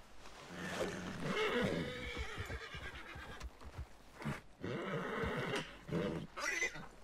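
Horse in the video game Red Dead Redemption 2 lets out several loud, shrill neighs and whinnies, with snorts and hoof clatter between the calls.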